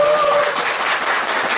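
Audience applause at a corporate lecture event, dense clapping from a crowd, loud and sustained throughout without a break.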